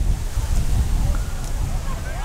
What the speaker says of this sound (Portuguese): O vento tá muito, muito forte, ó.